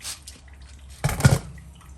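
Tumbled lemon quartz stones rinsed in water, a short burst of splashing and sloshing near the middle, with faint dripping and quiet room noise before and after.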